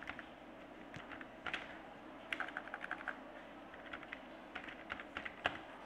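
Rapid keystrokes on a computer keyboard while Java code is typed, irregular clusters of close, light clicks with brief pauses between bursts and a few sharper key hits.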